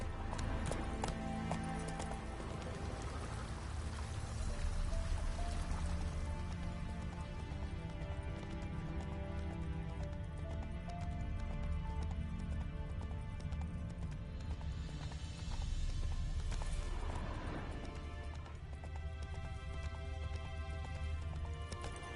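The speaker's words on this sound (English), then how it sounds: "Run, Roach" Galloping horse in the video game The Witcher 3, steady rapid hoofbeat clip-clop running continuously over dense game music and ambience, loud and close throughout.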